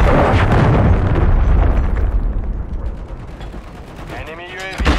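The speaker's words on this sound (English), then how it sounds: "Hostile cruise missile incoming." A cruise missile strike in the Black Ops 6 beta detonates with a loud, roaring blast that rumbles on for several seconds, then fades into rattling debris before a sharper crack near the end.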